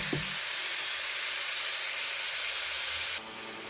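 Meat sauce browning in a hot pan gives a steady, close sizzle with a faint clatter of stirring at the start and no talking, and the hiss drops away abruptly near the end.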